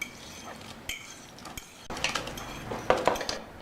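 A spoon scrapes and clinks against a bowl while mixing carrot and walnut brownie batter, in irregular taps and knocks that grow busier and louder toward the end, with no talking.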